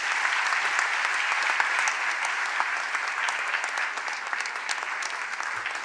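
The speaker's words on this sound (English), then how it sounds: "A big round of applause for our Honorable Chief Guest." Sustained applause from a crowd at a university convocation ceremony in Pune, steady dense clapping filling the whole stretch with no voices standing out.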